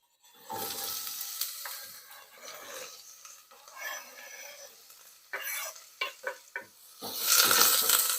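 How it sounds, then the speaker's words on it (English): Onions dropped into a pan of oil heated on medium-high over a gas stove burst into sizzling, followed by frying and a few stirring scrapes, then a loud rush of sizzle near the end. "All right, we're going to put in our onions now."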